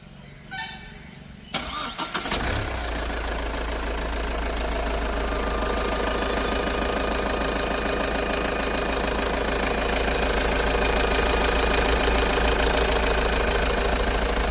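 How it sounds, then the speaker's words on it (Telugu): A 2023 Mahindra Thar, red, cranks and fires up after a short quiet moment, then settles into a steady, loud, close diesel-like idle with a low rumble and faint knock that continues to the end. "ఒకసారి ఇంజిన్ కూడా స్టార్ట్ చేసి చూపిస్తాను, ఒకసారి సౌండ్ అయితే చూద్దాం."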